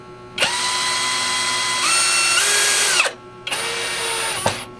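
A power drill drives screws back into a Suntree 50A MC4 DC isolator switch enclosure for a solar setup, with two close, loud whirring bursts, the first rising in pitch partway through, separated by a short pause.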